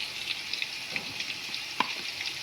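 Green chillies and ginger garlic paste frying in a pan, giving a steady soft hiss with a few small spatters and faint stirring scrapes.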